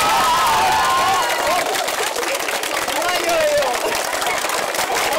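Children and adults clap and cheer on a primary school playground with newly painted asphalt games. The crowd sounds steady and lively throughout, with voices chattering and calling out over the clapping.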